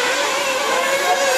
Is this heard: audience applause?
no